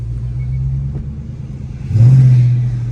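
Sports car engine in sport mode, traction, steering and transmission all set to sport, rumbling steadily at low revs and then surging into a louder rev about two-thirds through as paddle shifts are worked, heard from inside the cabin.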